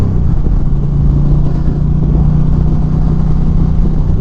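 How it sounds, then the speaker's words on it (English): An Indian Chieftain PowerPlus 112 Limited motorcycle from 2025 pulls hard, its exhaust giving a steady, loud, deep engine drone throughout with no talking. "The sound there is really nice from that exhaust."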